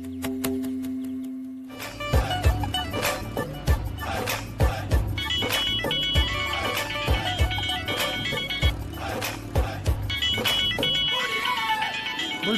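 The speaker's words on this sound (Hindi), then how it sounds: "फोन आ रहा है" A phone in a TV drama scene rings with a sustained electronic tone, then breaks into a rhythmic, melodic ringtone pattern that repeats for several seconds, with voices faintly in the background.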